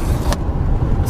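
A homemade electric car drives in third gear at about 35 mph, giving a steady, close road and motor rumble with a brief higher whir partway through.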